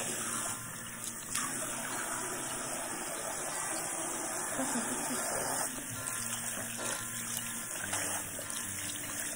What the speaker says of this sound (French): pour faire un bon shampoing il faut déjà bien mouiller ses cheveux